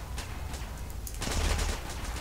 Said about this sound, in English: Who's shooting me and where?